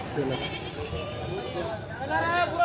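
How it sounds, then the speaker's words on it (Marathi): Sheep and goats crowded in a vehicle at a livestock market in Murud, Latur bleat repeatedly. The nearby bleats blend into a busy din, with people talking over them throughout. "आणि या गाडीमध्ये मेंढ्या आहेत."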